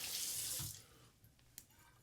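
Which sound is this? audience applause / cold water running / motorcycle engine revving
cold water running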